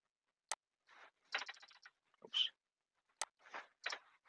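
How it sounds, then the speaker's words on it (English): Computer keyboard typing while entering a program comment in CAM software, heard as several short clusters of quick close key taps separated by pauses, with no talk. "I'm gonna type"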